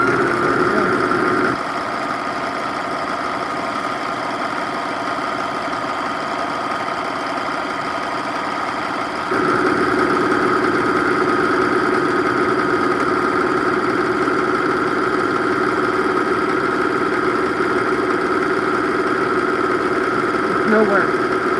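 A sewing machine runs continuously while a mini dress is sewn, a steady mechanical hum with a clear step up in level partway through, sustained and fairly close throughout.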